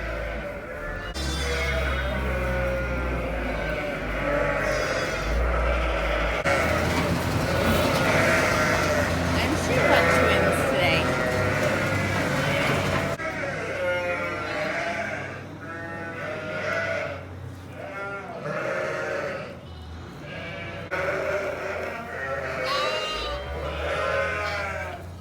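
Sheep bleat repeatedly on a dairy sheep farm, loud and close, while other farm animal calls overlap and mix with steady background noise.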